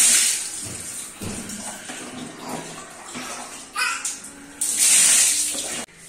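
Water runs for a bath, a tap gushing and splashing into a tub at close range, with the flow changing in strength and a voice heard briefly beneath it.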